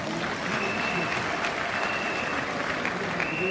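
Audience applause greets RHDP party candidates at an investiture ceremony for municipal and regional elections, a steady dense wash of clapping that holds loud and even throughout with no voices over it.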